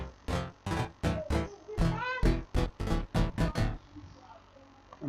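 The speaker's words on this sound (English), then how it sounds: "I gave it this stuttery, chopped up chord progression." A Serum synth patch of saw wave chords plays a stuttery, chopped-up progression: about ten short, bright, buzzy stabs in an uneven rhythm, loud and alone.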